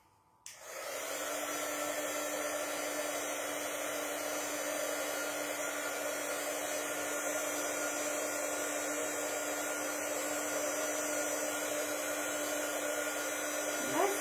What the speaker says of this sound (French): Allez, un petit coup de heat gun.